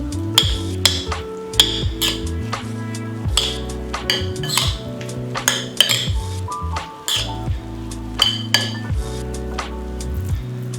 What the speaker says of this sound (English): Just give that a toss